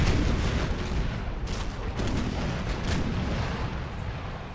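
Cannon and artillery fire in the Napoleonic-era strategy game Napoleon: Total War, in a naval battle with Ottoman ships, a dense, continuous rumble of overlapping booms with no talk.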